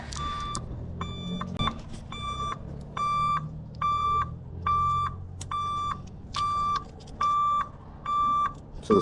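Parking aid on a 2021 Ford Transit van beeping in a steady, evenly spaced series of about nine identical electronic tones, fairly loud over a low background hum during diagnosis of a parking aid malfunction.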